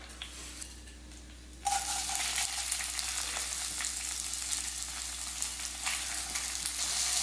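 Washed, drained rice for jeera rice is stirred in a hot pan: quiet at first, then a loud, steady frying hiss sets in and continues, with soft stirring scrapes and no voices.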